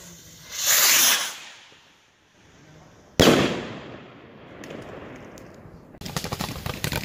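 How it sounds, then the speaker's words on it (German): New Year's Eve fireworks and firecrackers, including flashbangs, burst outdoors in loud, sharp cracks, a whooshing hiss that fades, and a final rapid crackling volley, fairly close with no talk. "Bei den Flashbangs sind irgendwie die Knaller am Boden lauter als oben."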